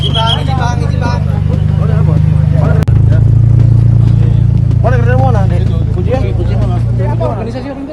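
Motorcycles in a youth convoy, riders without helmets, rev their engines loudly and continuously nearby, a steady low engine drone with surges, amid crowd chatter.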